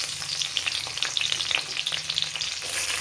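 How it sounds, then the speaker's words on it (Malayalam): Asafoetida and garlic sizzle and crackle steadily in hot oil for a homemade fish pickle, a close and continuous frying hiss. "കായം മുരിയുന്നതിലൂടെ തന്നെ നമുക്ക് വെളുത്തുള്ളിയും ഇടാം"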